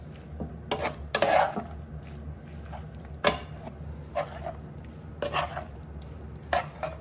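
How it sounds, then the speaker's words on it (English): Roasted vegetables tossed with a generous handful of roughly chopped coriander, bursts of scraping and clattering of a utensil against the dish, close by and irregular, with no talk. "I'm just going to add my generous bunch of roughly chopped coriander and just toss that through the veggies"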